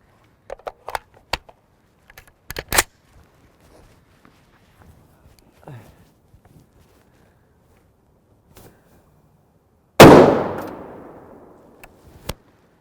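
A single loud 7.62x51mm rifle shot, Winchester 135gr Sierra hollow-point load fired at a gel test, cracks sharply and rings out in a long decay, following scattered quiet clicks and handling noises.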